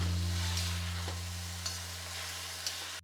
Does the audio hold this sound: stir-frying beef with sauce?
yes